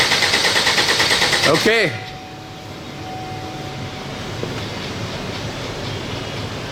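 An engine cranks over on its starter with fuel injection disabled, giving a loud, rapid rhythmic chugging that stops after about two seconds. A brief spoken word follows over a quieter background hum.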